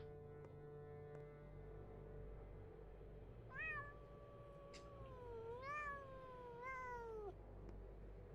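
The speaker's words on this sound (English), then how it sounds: "That was the sound of a cat where no cat exists." A cat meows three times in a rising, bending wail over a steady low hum, close and clear, heard during a spooky Halloween-season stream.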